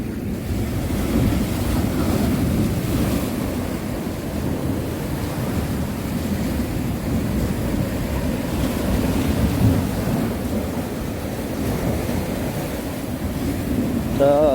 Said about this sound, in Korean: 파도가 좀 높은 겁니다